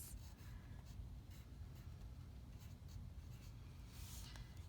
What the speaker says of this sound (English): So I will write my short name